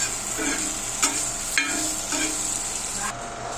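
Paneer roasting in light oil on a dosa griddle, sizzling with a steady bright hiss and a few soft scraping strokes, close and alone.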